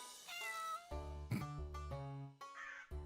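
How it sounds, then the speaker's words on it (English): A cartoonish cat meows and squabbles with a cawing crow in an indie video game, several short, close, clear calls alternating back and forth with no talking. "Little argument between a cat and a bird."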